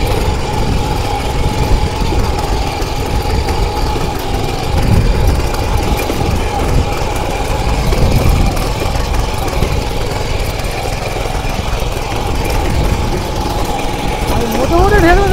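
A Dfarm mini power weeder runs with its rotor in second gear, its small engine giving off a loud, steady, close-up drone that holds an even throb throughout.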